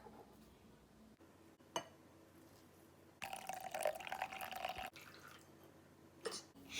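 Water splashes and trickles into a bowl of mochi powder in short bursts, followed by soft wet stirring sounds, close and quiet.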